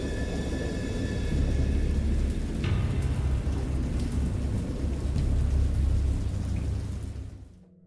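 Steady heavy rain with a continuous low rumble of thunder rolling through, loud and close, fading out at the end.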